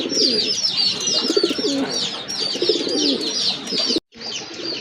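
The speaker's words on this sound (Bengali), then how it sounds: "এটা হচ্ছে আপনার রাজগোল্লা কবুতর" Rajgolla pigeons, a black-and-white pair for sale, coo close by in a busy, overlapping stream of throaty burbling calls that breaks off briefly near the end.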